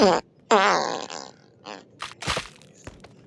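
A loud, buzzy fart opens the clip, followed by a longer rippling one. Voices and laughter come in afterward.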